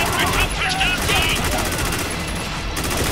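Heavy sustained gunfire in the war shooter Spec Ops: The Line, a loud, rapid rattling fusillade that fills the whole stretch, with a voice faintly mixed in.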